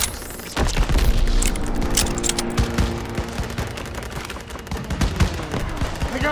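Gunfire in a Call of Duty WWII battle at Marigny, France in 1944: dense bursts of rifle and machine-gun fire with booming impacts crackle continuously, loud and close, amid battlefield clatter.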